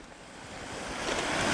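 River rapids on the Rivière des Lacs cascading over rocks, a continuous broadband rushing roar that swells steadily louder, close and alone without voices.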